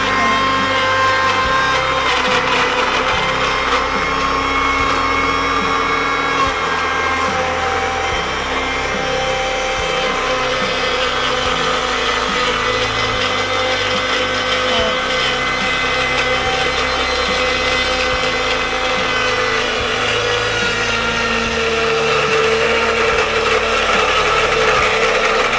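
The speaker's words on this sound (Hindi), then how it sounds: "अब मैं ब्लेंडर ऑन कर देती हूँ।" A blender whirs loudly and continuously for a long stretch, blending apple for homemade night cream, its motor pitch wavering slightly as the contents churn.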